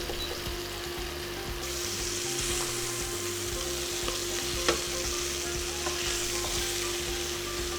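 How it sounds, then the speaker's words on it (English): Bulk Jimenez chorizo sausage fries in a pan on an induction burner, giving a steady, close sizzle with scraping and stirring and one sharp clack partway through. "I can get a little bit of that Maillard reaction going on the outside of this bulk sausage like that"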